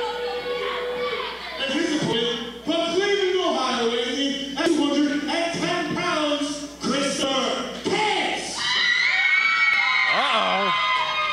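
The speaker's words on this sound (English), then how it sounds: "The crowd's pretty excited for this." A crowd in a Fire Pro Wrestling video game cheers and shouts in a loud, sustained roar with rising and falling voices, with some louder bursts among the noise.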